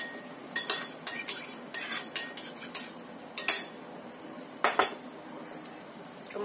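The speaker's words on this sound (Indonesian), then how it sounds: "Kita aduk sampai rata." A utensil stirs a sesame oil marinade in a bowl, heard as a steady run of light metallic clinks and taps against the dish, close by and without speech.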